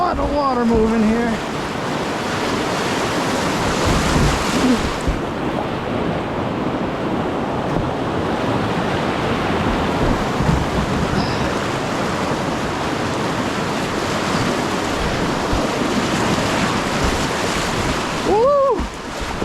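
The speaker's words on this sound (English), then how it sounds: "Water moving here." Whitewater river rapids on the Upper South Branch in New Hampshire, heard from a kayak as a loud, steady rushing roar of churning water with wind buffeting the microphone throughout.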